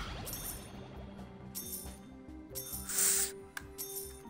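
Coins pile up in a video game, a bright burst of chiming, clinking pickups sounding repeatedly over steady game music, with one louder shimmering cluster near the middle.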